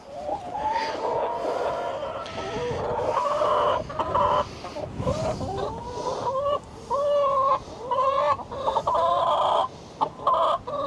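Several chickens clucking and cooing close by, a busy run of repeated bursts and short calls with brief pauses, fairly loud and without talk.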